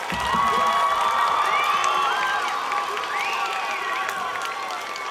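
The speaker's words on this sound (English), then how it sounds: "Let's give her one more big round of applause." A crowd of children at a school presentation applauds and cheers loudly, with shrill shouts and excited voices rising over the clapping throughout.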